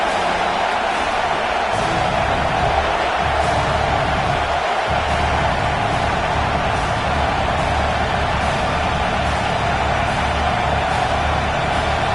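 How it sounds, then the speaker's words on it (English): A football stadium crowd makes loud, steady noise before a field goal attempt, a dense, unbroken roar that holds at the same level throughout. "This crowd trying to do its part to get inside the kicker's head."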